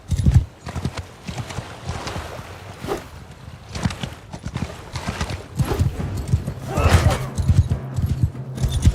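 Horse hooves clip-clop in the game Mount and Blade: Bannerlord, a steady rhythm of fairly loud, close hoofbeats with a brief whinny, running under a voice.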